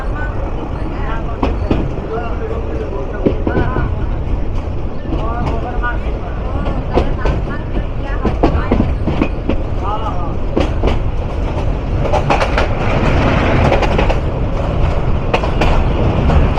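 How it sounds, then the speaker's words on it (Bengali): An aging-locomotive Lalmonirhat commuter train rumbling across the Teesta rail bridge, a loud continuous roar with rhythmic clickety-clack of wheels over rail joints, heard from aboard with voices murmuring beneath. "ট্রেন প্রবেশ করে গেল তিস্তা রেল ব্রিজে।"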